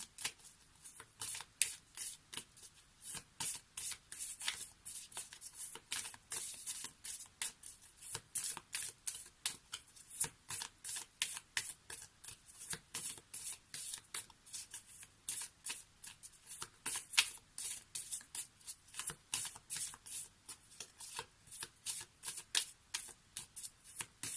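Lenormand oracle cards are shuffled by hand close up in a long run of quick, crisp riffling bursts. The rhythm is steady and repetitive, with no voice.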